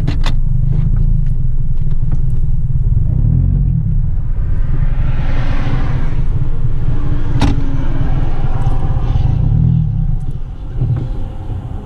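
A car engine running on chocolate milk in the tank gives a steady low rumble that wavers and sags near the end as it stalls.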